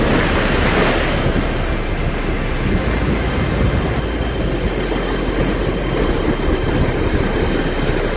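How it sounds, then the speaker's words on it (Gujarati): Water surging and washing in at the Pingleshwar Mahadev riverside temple, said to have been installed by the Pandavas, with the river at full flow. The rushing surf roars continuously and loudly, close by, with no speech. "તો વેળ બહારથી આવે છે"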